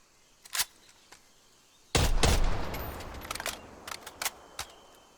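A Type 63 rifle with a muzzle attachment fires in a video game: a few faint single shots, then a loud burst of rapid fire that trails into scattered follow-up shots.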